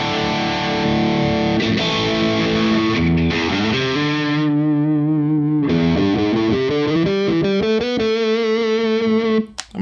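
Made in Japan Fender electric guitar played on its bridge pickup with distortion, steady chords and riffs ringing loud and close for the whole stretch, ending in a sudden cutoff.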